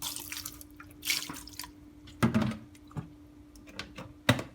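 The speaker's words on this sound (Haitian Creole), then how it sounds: "On va le mettre de l'eau chaude." Hot water goes into a basin for washing vegetables, giving quiet, scattered splashes and drips spaced a second or so apart in an otherwise still room.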